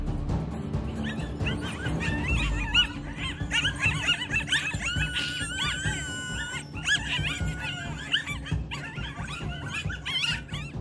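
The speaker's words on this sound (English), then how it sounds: "a group of coyotes singing together in the forest. Their haunting howls echo through the trees" Group of coyotes in a forest at night, caught on a trail camera, yipping, barking and wavering in overlapping howls that rise and fall for several seconds, fairly close and echoing.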